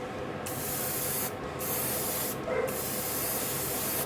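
Steady aerosol spray hissing close up in several long bursts, with brief pauses between them.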